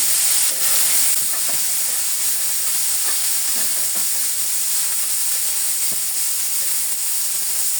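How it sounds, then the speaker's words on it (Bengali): Thin potato slices fry in a little oil with a continuous loud hiss and sizzle, broken by faint crackles and pops, heard up close with no voices. "হালকা তেলে ভেজে নেব।"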